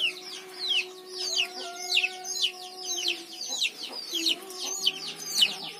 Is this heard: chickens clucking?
yes